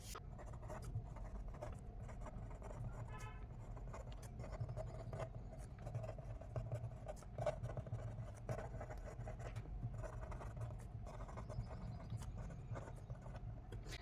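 Steady pen scratching while a maths conclusion about real numbers and prime factors is written out, continuous faint strokes over low background hum, with no one speaking.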